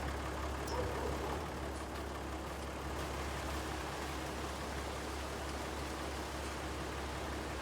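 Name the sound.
rain starting in a farming video game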